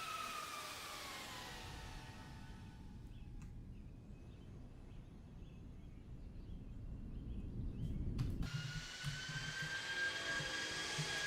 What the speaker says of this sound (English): Hear those reverser sounds.